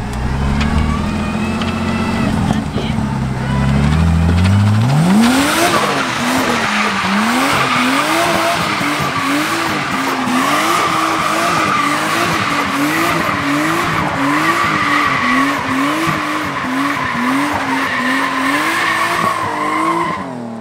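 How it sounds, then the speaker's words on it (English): A Nissan 350Z on brand-new, slippery tires spins donuts, its engine revving in a rising then rhythmically pulsing pattern while the tires squeal and skid continuously, loud and close, for about twenty seconds. "See if I can get her to do donuts around me."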